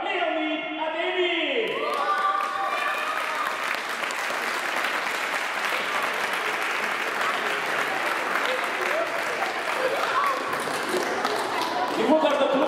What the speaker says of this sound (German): Applaus zum besten Tormann von der Mannschaft von Becker, Leonid Ademi